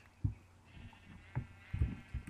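Sheep bleat in a Minecraft-style block game, several short blocky calls spaced irregularly across the moment, moderately loud with no talk over them.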